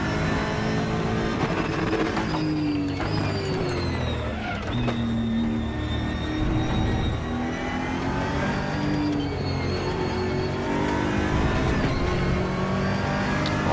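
Engine roar from a car in a VR racing video game, a continuous revving drone that rises and shifts pitch through gear changes, steady and loud throughout with no speech.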